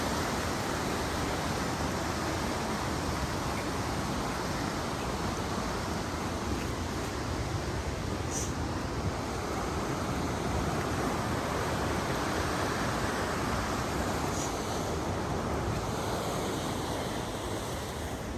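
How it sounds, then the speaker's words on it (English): McKenzie River rushing steadily near Sahalie and Koosah Falls along a snowy hiking loop, a dense, continuous broadband roar of whitewater with no breaks, fairly loud and close, no talking. "Oh, that beautiful river right there."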